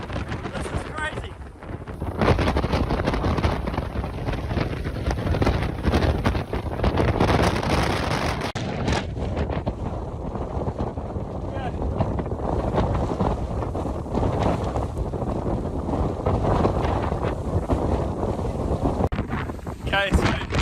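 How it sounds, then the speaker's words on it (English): Powerful wind gusts buffet a hilltop where a cyclist shelters beside a bike, roaring steadily into the microphone for about twenty seconds as a loud, rough rush that swells and eases, with talking faintly mixed in. "The wind was actually trying to pick the bike up"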